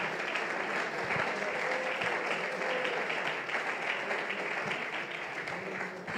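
A church congregation claps continuously and evenly, a dense sustained patter of many hands at moderate loudness with no pauses.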